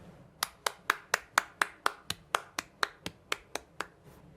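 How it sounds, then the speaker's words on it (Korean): During a Sunday church service, sharp, evenly spaced claps ring out one at a time, about fourteen crisp strikes in a steady rhythm, close and clear over a quiet room. "우리 하나님께 영광의 박수 올리겠습니다"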